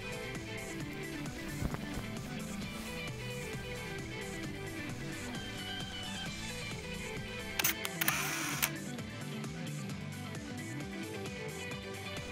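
A camera takes a face photo for a driver's license, firing a short burst of quick shutter clicks partway through over steady background music.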